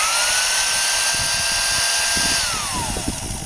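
A two-speed Sears Craftsman Powermate handheld vacuum, model 208.17840, running after its belt roller was replaced: a loud, close, high motor whine holds steady, then slides lower in pitch toward the end, with no talk over it.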